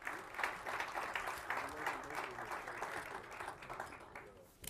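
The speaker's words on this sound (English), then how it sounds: "the applause was considerably less for when you won the pot" An audience at a poker event applauds at moderate volume, the clapping dense and steady before slowly tapering off, heard from some distance.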